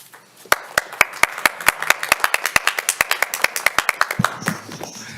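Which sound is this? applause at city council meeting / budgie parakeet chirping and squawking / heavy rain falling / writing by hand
applause at city council meeting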